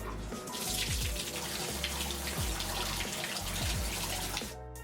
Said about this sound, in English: I'm gonna hop into the shower